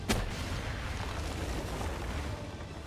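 A rocket explodes in a video game with one sharp, loud burst at the start, followed by a low, rumbling wash of blast noise that carries on steadily to the end.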